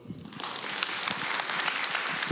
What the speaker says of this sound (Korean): 우리 찬율 형제를 위해서 뜨거운 박수 다시 한번 부탁드리겠습니다